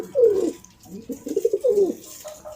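A pigeon in a Lahore loft coos softly several times in low, throaty bursts, close by, with no voices.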